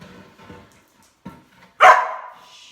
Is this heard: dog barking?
yes